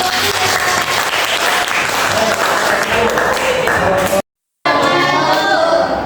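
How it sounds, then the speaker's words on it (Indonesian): Loud, dense applause from a classroom of students after a group presentation, continuous and close, briefly cutting out near the end before resuming. "beri tepuk tangan untuk"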